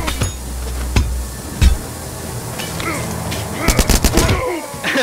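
Gunshots in The Culling, several loud, sharp cracks spaced apart, ending in a quick cluster of rapid shots, with a voice speaking in between.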